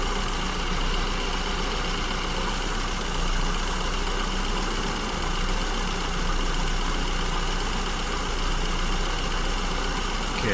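An engine fitted with an SU carburetor idles with a slightly wavering speed as fuel mixture is added, a steady close drone that swells gently at times, with no one speaking.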